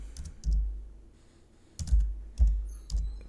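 Keystrokes on a computer keyboard entering a terminal command, a few distinct close clicks in small clusters separated by brief pauses, fairly quiet.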